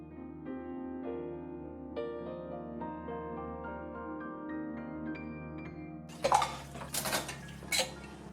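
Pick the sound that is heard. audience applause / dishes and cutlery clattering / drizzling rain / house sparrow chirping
dishes and cutlery clattering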